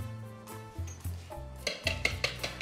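A utensil clinks and scrapes against a bowl in a quick series of taps while stirring eggs and sugar, growing busier toward the end, close and fairly quiet.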